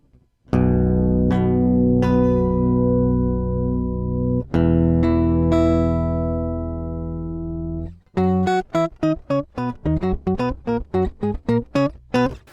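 Clean electric guitar chords from an HD Pro amp modeler ring out long and shimmering with a glassy top end, then give way to a quick run of short, plucked notes, clear and close.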